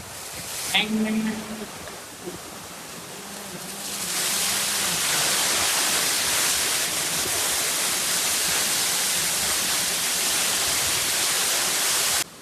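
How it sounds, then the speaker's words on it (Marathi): A monsoon waterfall in Karjat thunders as a loud, steady broadband roar once it swells in, preceded by a few seconds of voices talking nearby. "पावसाळ्यात कधी डिसअपॉइंट नाही करत हा धबधबा."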